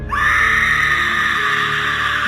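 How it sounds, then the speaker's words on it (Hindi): A loud, sustained shrill scream sound effect starts abruptly and holds steadily at full strength for about two seconds, alone with no talk over it. "किसी की जोर से चिल्लाने जैसी आवाज आती"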